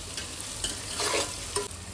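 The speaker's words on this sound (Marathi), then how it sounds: "आता हे मस्त लालसर होतो सर आपण मारून घेणार तेलावर." Crushed ginger and garlic fry in hot oil with a close, continuous sizzle, broken by a few louder bursts of spatter and stirring.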